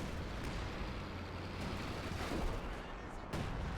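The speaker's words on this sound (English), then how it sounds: "Artillery." Artillery fire in a Company of Heroes-style World War II strategy match on a Stalingrad map, heard as a dense, steady wash of distant booms and rumbling gunfire with a couple of sharper blasts near the end.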